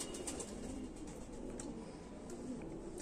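A single racing pigeon with a Chinese ring coos softly at close range, low repeated throaty calls over a steady background hum, with no talking.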